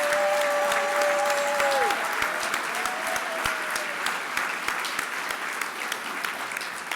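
A crowd at a community foundation's 35th anniversary celebration gives a standing round of applause, dense and sustained, while a fading high tone rings out early and a few louder individual claps stand out.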